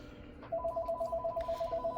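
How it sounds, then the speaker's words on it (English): A telephone rings in a steady electronic tone that begins about halfway through and continues to the end, fairly clear over a low background hum, with no talking. "That is the phone ringing."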